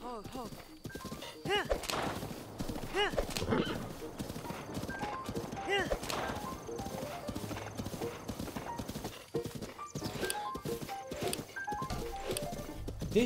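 Horse hooves clip-clop steadily in Zelda: Breath of the Wild, with a horse neighing and whinnying at moments, all fairly loud and up close while a person talks over it.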